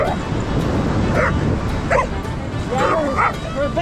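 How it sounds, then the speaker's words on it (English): A Gordon Setter on an ocean beach in Washington barks and yips in short bursts, fairly close, over a steady wash of surf and wind, with a few soft whimpers in between. "Oh, Bella has a friend, a Gordon Setter."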